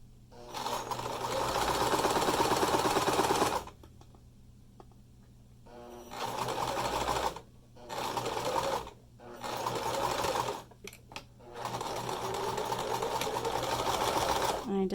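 A sewing machine back-stitches a 3D fabric face mask in several loud, close bursts of rapid mechanical whirring separated by short pauses, with no talking over it.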